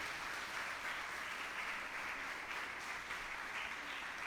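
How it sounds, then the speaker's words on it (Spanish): A church congregation applauds for the Lord during a Spanish-language sermon, a faint, steady wash of clapping from a distance that runs throughout without a break. "Denle un aplauso al Señor"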